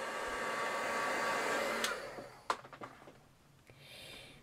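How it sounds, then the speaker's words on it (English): A heat gun blasts hot air in a steady hiss for about two seconds, then cuts off, leaving a few sharp clicks and handling knocks. "I'm just going to give it a blast with the heat gun"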